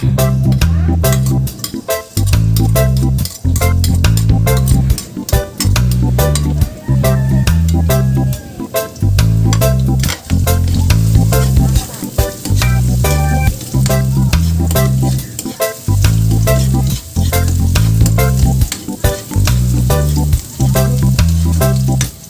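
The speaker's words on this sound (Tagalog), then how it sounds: "At kapag mainit na, pwede na natin ilagay yung ating bawang." Garlic sizzling in hot oil as it is stirred for beef tendon adobo, heard as a constant bright hiss beneath loud, rhythmic background music with a repeating beat.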